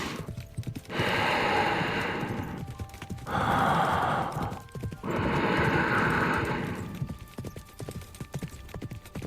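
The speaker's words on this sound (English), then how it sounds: "We're sharing a horse." Horse whinnies and breathy snorts in the Love and Deepspace video game, three long loud bursts separated by short pauses, close and clear with no talking.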